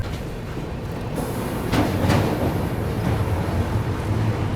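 A Humsafar Express passenger train runs on the long Rameshwaram to Firozpur route near Vijayawada, crossing the Krishna River, giving a continuous low rumble and rattle heard from inside the coach, steady and fairly loud.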